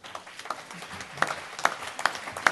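A church congregation applauding the Lord, fairly quiet scattered hand claps that grow into a few sharper, louder claps toward the end, with a faint murmur behind.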